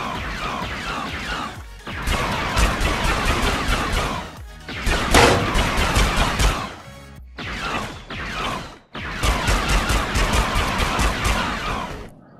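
A Star Wars DL-44 blaster pistol fires in the Battle Talent VR game, with dense, loud, rapid bursts of shots and crashing impacts that pause briefly between volleys.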